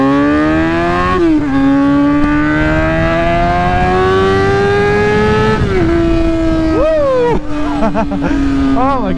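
A Honda F4i motorcycle engine revs loud and close, its pitch climbing through long pulls with a few sharp drops between gears, ending in a wavering rev.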